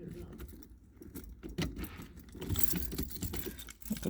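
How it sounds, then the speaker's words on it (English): Keys jangling close up as they go into the ignition of a Triumph Spitfire 1500, a quiet series of light metallic clinks and rattles in bursts. "put the keys in, hope the battery ain't flat, steering lock's on"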